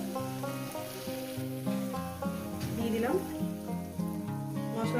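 Spice paste for a katla fish curry fries in a pan with a continuous sizzle and occasional stirring scrapes, under a steady tonal background layer.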